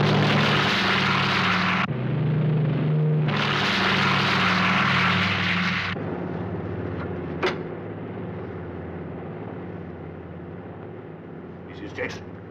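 A propeller airplane drones steadily through a flight to New Guinea, its engine hum continuous under dialogue, loud at first and then easing to a lower, duller level, with a brief knock partway through.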